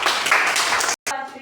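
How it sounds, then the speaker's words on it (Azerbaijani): Fourth-grade schoolchildren applauding in a classroom, a brief burst of close, busy clapping mixed with voices, cut off by a short gap before talk resumes. "Alqışlayaq."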